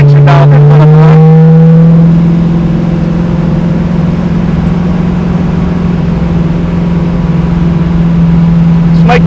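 1974 AMC Javelin hot rod V8 revving loudly at the launch line, a rising rev that settles into a steady, droning engine note held close and loud throughout.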